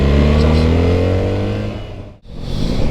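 A BMW R1300GS motorcycle fitted with an Akrapovic exhaust revs loudly and close, a rich rising engine drone that briefly dips off the throttle and then climbs again.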